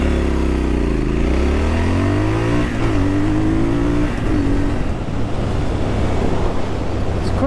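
A 2022 Triumph Scrambler 1200 XE motorcycle accelerates hard from standstill to 100 on an empty road, its engine pitch climbing and dropping through several gear changes, loud and close over steady wind rush.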